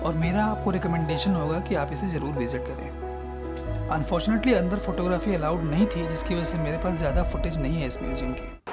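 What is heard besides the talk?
None of the usual background noises is heard.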